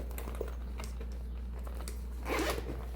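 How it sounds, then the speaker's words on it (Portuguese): A zipper on a baby pillow travel bag is pulled open in one short, quiet rasp, with faint handling clicks and rustles before it. "Aqui, para facilitar, vou abrir o zíper."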